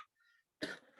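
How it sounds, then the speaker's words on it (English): A single sharp cough bursts out after a brief quiet moment, close and fairly loud, during a transportation performance management webinar. "oh no, don't dare cough, excuse me"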